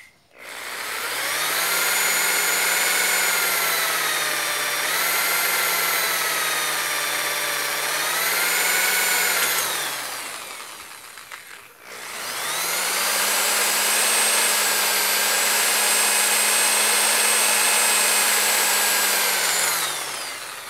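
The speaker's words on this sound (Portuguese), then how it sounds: "Vamos furar agora." A power drill boring into a part for a homemade motorcycle, two long sustained whining runs with a brief pause between, loud and close.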